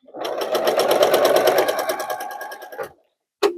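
A sewing machine stitches a seam on a sunflower quilt block in a fast, even mechanical rattle lasting nearly three seconds. It stops, then a brief clunk follows after a short pause.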